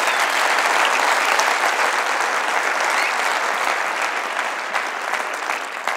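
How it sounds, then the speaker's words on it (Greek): Loud, dense audience applause fills the hall, a continuous roar of many hands clapping at even strength before easing slightly toward the end. "Και παρακαλώ ένα χειροκρότημα για την ηγεσία."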